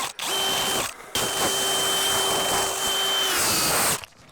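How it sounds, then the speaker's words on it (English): A power drill with a self-feed auger bit whines steadily as it bores through aspenite chipboard sheathing over a rim joist, starting and stopping in short loud bursts, close by. "those self-feed auger drill bits don't do anything in that. They just mush it up, and so you really got to force your way in"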